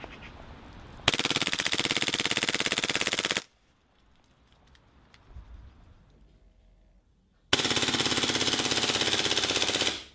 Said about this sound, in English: this MP7 will happily empty a magazine on bursts or complete mag dump without embarrassing you by gassing out